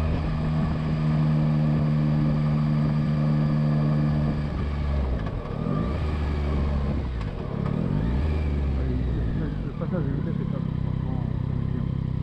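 Yamaha Tracer 9 GT motorcycle engine droning steadily while riding, then dipping and climbing in pitch through several gear changes, with wind and a voice talking over it.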